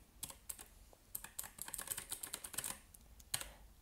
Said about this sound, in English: it lights up when you press the keys